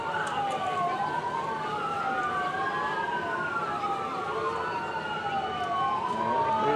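An emergency vehicle siren at a parade wails continuously, its pitch sweeping up and down in overlapping cycles, steady and fairly loud over a background of traffic rumble.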